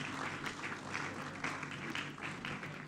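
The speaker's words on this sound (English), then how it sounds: "A round of applause for her once again" Audience applause at an entrepreneurs' conference, a steady wash of clapping at moderate level, heard from a distance, with a faint hum beneath it.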